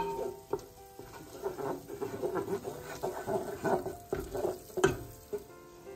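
Ethiopian dish stirred in a pan, with a soft ongoing sizzle and scraping spoon strokes, a few louder clinks near the end; fairly quiet and close.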